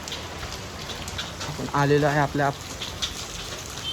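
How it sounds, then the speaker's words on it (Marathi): Heavy rain falls on a village road as a constant wash of hiss, while someone speaks briefly partway through. "पाऊस खूप आहे."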